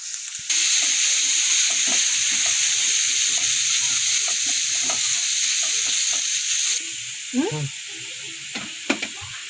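Grated carrot and beetroot fry in a pan with a steady, loud sizzle, broken by scattered stirring knocks and scrapes; the sizzle drops slightly toward the end.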